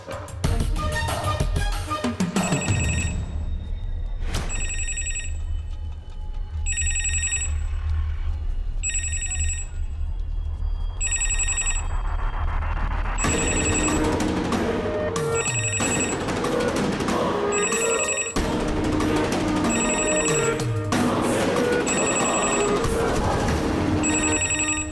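Repeated bursts of an electronic telephone ring, evenly spaced, loud and close, with a low rumble and music-like tones underneath in the second half.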